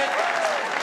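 A crowd bursts into applause at the men's final of the 2024 Optasia squash championships, Farag against Coll: a dense, loud wash of clapping filling the whole brief moment.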